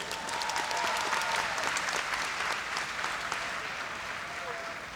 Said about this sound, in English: let's have a round of applause for these warriors